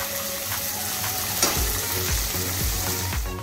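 Chopped onions frying in oil for a mutton curry, a steady close sizzle with periodic low scraping thumps of a spoon stirring the pan, no voices.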